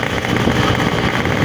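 A Yamaha RX King motorcycle engine drones loud and steady without pause, close up, with a dense rumbling texture and no voices.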